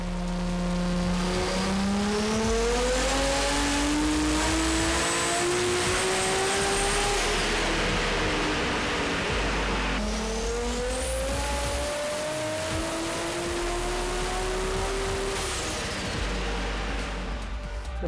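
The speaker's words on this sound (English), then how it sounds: "My red GTR's going, MSM GTR." A modified Nissan GT-R street car with a Tomei 2.8 engine making 1210 horsepower accelerates hard down a runway, its engine climbing through rising gears twice in loud, sustained revving pulls with tire noise.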